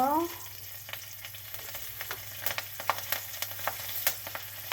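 Black cumin seeds and green chilli tempering in hot oil: a steady faint sizzle with scattered crackling pops, alone with no talk.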